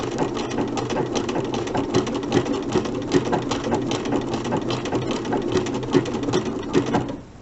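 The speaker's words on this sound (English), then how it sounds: "I'm just going to continue my buttonhole stitch up to where I switched over to the buttonhole stitch." A sewing machine sews a buttonhole stitch for machine appliqué. It gives a steady, fast mechanical chatter with a rhythmic pulse, running close and continuously for about seven seconds before stopping.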